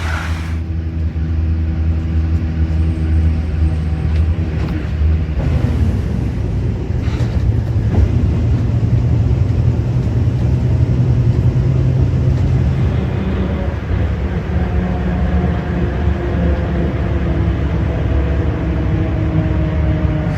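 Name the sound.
bus ride through Yakutsk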